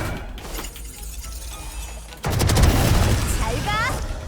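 A grenade detonates in the shooter game Valorant: a sudden, loud burst that cuts through quieter game sounds, then a sustained rumbling roar with thin whistling tones trailing after it.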